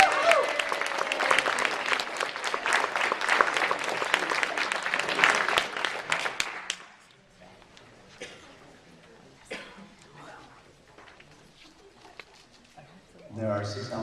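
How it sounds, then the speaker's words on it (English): Audience applause for award nominees at a science fiction awards reception, a dense, loud burst of clapping for about seven seconds that stops abruptly, followed by quiet room noise with scattered claps and a brief voice at the end. "Applaud for the nominee."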